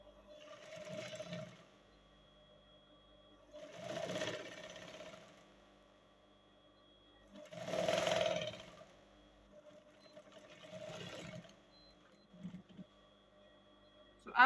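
A sewing machine stitching fabric, running in four short bursts of rapid mechanical whirring separated by quiet pauses, fairly faint and close.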